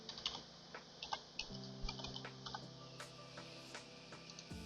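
A password is typed on a computer keyboard: a quick, irregular run of soft, close key clicks, recorded quietly with no voices.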